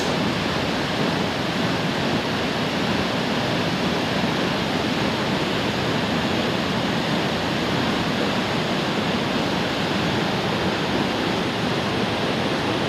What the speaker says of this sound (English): Very big waterfalls.